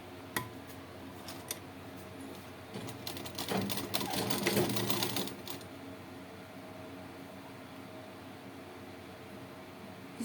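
A sewing machine stitching a frill onto cloth, a quiet steady background hum with a brief burst of faster whirring stitches in the middle and a few sharp clicks, heard alone without talk.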